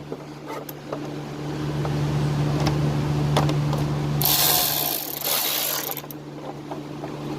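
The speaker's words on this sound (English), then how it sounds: "get this battery out, which is held in by 8mm bolt, which I'm going to loosen now" An 8mm battery hold-down bolt being loosened on an H1 Hummer, giving close, repeated ratcheting clicks over a steady low engine-bay hum, with a brighter rasping burst partway through.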